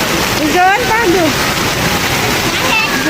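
The season's first monsoon rain pours in a loud, steady hiss throughout. Voices rise briefly over the downpour.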